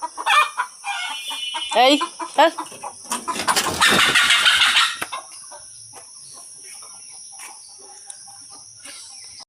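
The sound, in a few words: chickens clucking as they are let out in the morning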